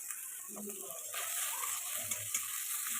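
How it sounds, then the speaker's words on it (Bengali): Onion frying in fish oil sizzles steadily in a pan while being stirred, with scraping stir sounds over a continuous hiss and a little faint voice in the background. "মাছের তেল দিয়ে আবারও পেঁয়াজটাকে একটু নাড়াচাড়া করে ভাজতে থাকবো"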